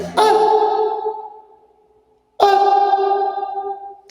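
Two loud struck tones each ring out into a long, smooth reverberant tail in a basement, slowly fading, separated by a brief silence.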